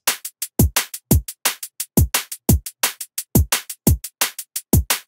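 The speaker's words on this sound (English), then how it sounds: "So now we have a beat that sounds a bit like this." A drum and bass beat with deep punchy kicks, crisp snares and quick bright hi-hats at a fast, driving tempo. The pattern repeats steadily and loudly without any voice.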